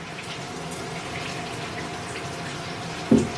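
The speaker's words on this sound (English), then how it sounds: "I'm in the shower, okay? And this water is cold." Cold shower water runs steadily as an even, close hiss of spray with no speech, and a short louder splash comes near the end.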